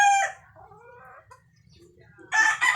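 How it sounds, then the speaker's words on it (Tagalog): A young Gilmore Hatch gamefowl rooster clucks up close, starting with a loud burst of calls, then quieter scattered clucks, ending in a second loud run of calls. "itong stag po natin ay ang Gilmore Hats po yan ng isa sa mga big time breeders"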